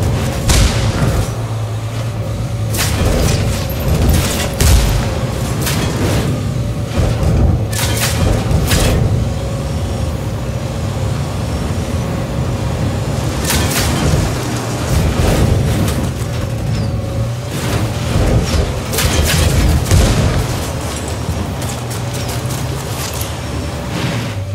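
Grenade blasts and bursts of rifle fire in the video game Ghost Recon Wildlands, loud booming thuds and rapid cracking shots repeating steadily over a sustained firefight, close and dense throughout.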